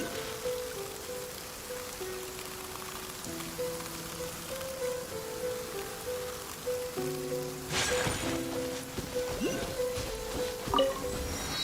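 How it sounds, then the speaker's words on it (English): Steady rain falls on the ground in the game Genshin Impact, a soft continuous patter heard alone, with faint sustained musical tones running underneath. "Let us find shelter from the rain."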